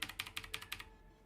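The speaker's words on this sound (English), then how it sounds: "This is a mechanical keyboard." Rapid keystrokes on a mechanical computer keyboard, about seven sharp clicky taps in quick succession, close and clear, then fading to quiet.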